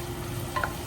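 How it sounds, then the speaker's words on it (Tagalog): Garlic frying in a pot gives a faint, steady sizzle, soft and close, with a tiny clink partway through. "lagay tayo ng bawang. Gusto ko itong bawang brown."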